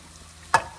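Apple pie egg roll filling with brown sugar stirred in a pan, a quiet scrape followed by a sharper burst of stirring and a second softer stroke, close and brief with no talk.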